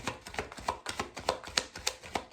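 Tarot deck being cut and shuffled by hand, a steady run of about nine crisp card taps and riffles in quick rhythm, close and clear.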